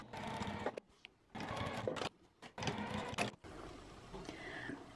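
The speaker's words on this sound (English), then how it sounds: "next we're gonna take this over to our sewing machine, and I'm just gonna sew back and forth a couple of times down these" A sewing machine stitches back and forth across the bottom flap of a fabric roll-up pencil case, running in three close, steady bursts separated by short pauses, then a softer, quieter stretch of handling at the end.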